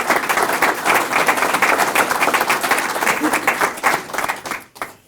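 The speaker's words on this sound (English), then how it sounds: "How about a round of applause for all our presenters today?" Meeting attendees at a local public safety coordinating council applaud the presenters, a roomful of brisk, close clapping that holds steady for several seconds before tapering off.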